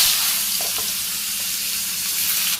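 Potatoes sizzle in hot oil in a wok, a steady loud bright hiss of frying that fills the short stretch without pause, with faint clicks of stirring and no talk.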